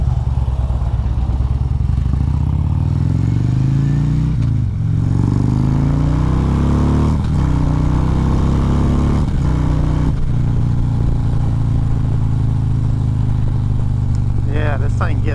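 A 2014 Harley-Davidson Ultra Classic motorcycle rolls along steadily, its engine rumbling close and loud beneath wind noise, with the pitch rising and falling through gear changes and throttle shifts.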